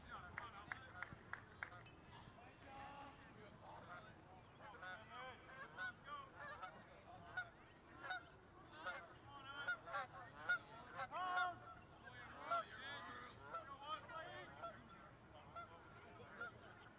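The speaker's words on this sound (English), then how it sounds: "So we've just had some geese land out in center field." Geese honk repeatedly after landing in center field at a high school varsity baseball game, faint and somewhat distant, with bursts of overlapping calls building and fading over about seventeen seconds while people talk quietly in the background.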